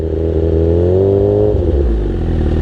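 A steady, loud car engine hum holds at a low idle before a drag racing launch, with a slight rise and dip in pitch partway through, no voices.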